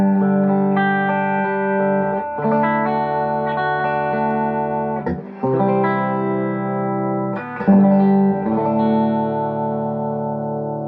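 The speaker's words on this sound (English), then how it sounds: "This is the bridge pickup. I've got the tone on the guitar turned down to about 7 or 8." Electric guitar played on its bridge pickup with the guitar's tone knob rolled back, through a Matchless Spitfire clone amp with no reverb pedal: chimey, swirly sustained chords ringing out loud and alone, changing every couple of seconds.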